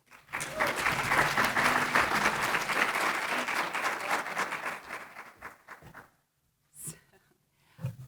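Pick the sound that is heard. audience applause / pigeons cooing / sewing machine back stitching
audience applause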